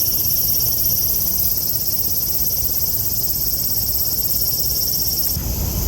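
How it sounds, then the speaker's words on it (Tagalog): Cicadas in trees during a hot Japanese summer give off a dense, continuous high-pitched buzzing drone, loud and steady throughout. "Sila yung tinatawag na sikada."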